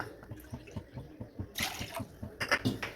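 Water is poured into sugar in a pan to make syrup for badusha, giving a close, splashing, trickling pour with irregular dripping pulses that swell near the end.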